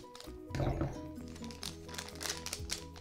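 A crinkly plastic blind bag being cut open with scissors, giving close, loud crackling and crumpling that continues through the whole moment, with brief low murmurs in the background.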